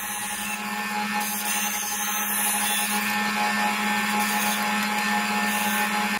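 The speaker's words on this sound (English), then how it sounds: "I then cut that out on my bandsaw." A bandsaw cuts a wooden sword handle out of a 2x4, giving a steady motor hum with a soft, continuous rasp of blade on wood at moderate distance.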